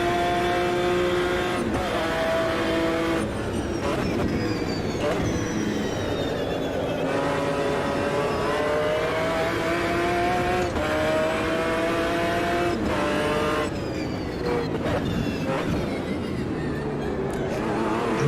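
A race car engine screams through repeated gear shifts at Silverstone in Automobilista 2, rising and falling in pitch as it revs up, short-shifts and lifts for corners, loud and continuous with no voices.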